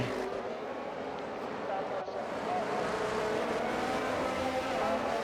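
A Formula 1 race car engine at full throttle during the Miami race: a loud, steady, high-pitched engine howl runs the whole clip, with a commentator talking over it.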